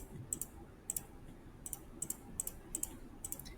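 Faint, crisp computer mouse clicks, a dozen or so sharp single and double taps spaced irregularly over a quiet room hum.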